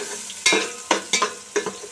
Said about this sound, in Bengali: পেঁয়াজগুলোকে ভেজে ভেজে হালকা ব্রাউন করব